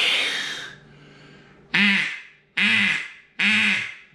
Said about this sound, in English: So now I want you to bring the duck call into it.